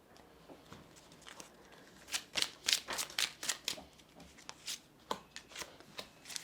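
Tarot cards being shuffled by hand at close range, a quiet stretch followed by a run of crisp riffling bursts and soft taps in uneven rhythm, with no talk.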